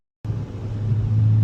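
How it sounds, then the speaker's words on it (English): A 2027 manual Nissan Z NISMO engine starts up and settles into a deep, throaty rumble through its Nismo track exhaust, close and steady. "the Nismo track exhaust opens this car up and it sounds phenomenal"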